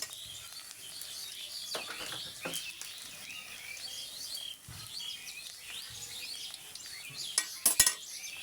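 Chopped onions stirred in a pan for a cabbage dish, with a spoon scraping and clinking against the metal in irregular strokes over a soft background hiss, and birds chirping faintly nearby.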